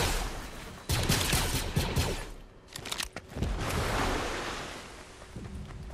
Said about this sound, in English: Why are you shooting us for?